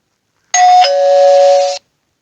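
A doorbell rings once, a loud close electronic chime that changes pitch partway through and then stops abruptly, with silence before and after.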